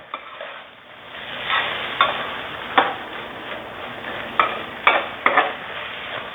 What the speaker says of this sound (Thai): จากนั้นคนส่วนผสมที่เราใส่ลงไปนะครับให้เข้ากัน